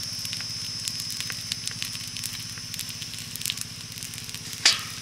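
A snack of semolina and flattened rice toasts on a tawa with no added oil. It gives a soft crackling sizzle over a steady low hum, and a brief clatter comes near the end.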